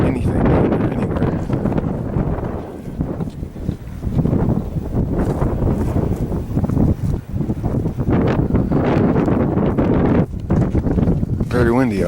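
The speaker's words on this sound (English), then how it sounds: "Very windy out here." Strong wind at Bryce Canyon buffets the microphone in continuous low, rough gusts that swell and ease, loud throughout, while someone talks in the middle of the gusts.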